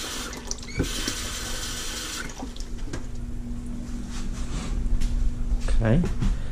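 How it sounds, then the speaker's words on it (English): Tap water runs steadily into a bowl in a kitchen during fish filleting, a close continuous rush with some faint talk around it. "Let's put some water in our bowl."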